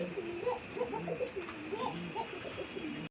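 Pair of pipe beauty male and blue bar female pigeons at a farm, soft repeated throaty coos in a rolling rhythm, close but quiet over a faint background hum, no speech.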